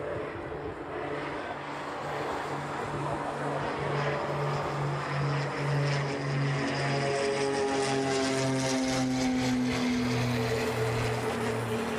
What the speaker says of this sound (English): Our first Japan airline departure, there it is. That is heading off to Osaka.